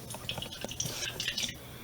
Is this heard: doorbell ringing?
no